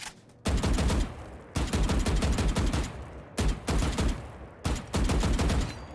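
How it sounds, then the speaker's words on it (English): Gunshots fired through a wall in Valorant, heard as four loud, separate strings of rapid automatic fire with short silent gaps between them and no talking. "You can wall bang through like that."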